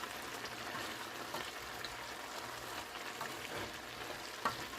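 Smothered cabbage seasoned with black pepper cooks in a pan, giving a faint, steady sizzle and soft crackle throughout with no voices.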